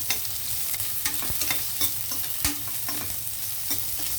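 Onions sizzle in hot ghee for chickpea pulao, a steady close frying hiss broken by the sharp scrape and clatter of a spoon stirring the pan, with no voices.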